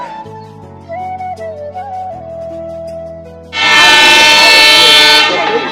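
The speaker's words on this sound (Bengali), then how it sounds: "এখন হচ্ছে আমরা পাইকরি রেলওয়ে স্টেশন থেকে ছেড়ে চলে যাচ্ছি" A train pulls out of Paikori railway station near Ishwardi in Bangladesh. Quieter tonal sounds come first, then a loud, close, broadband roar of the moving train takes over and holds for the final seconds.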